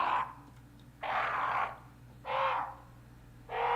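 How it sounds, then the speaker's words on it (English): Crows caw in a creepy Resident Evil game scene, three or four harsh drawn-out calls spaced about a second apart, fairly loud against a low steady ambient drone. "You hear the crows now?"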